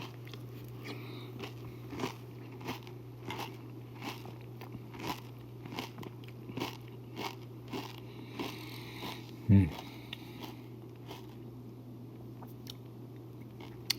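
Crunchy Basic 4 cereal with peanut butter chocolate protein being eaten by spoon, close repeated crunching bites and chewing at an irregular rhythm over a low steady hum, with no one talking.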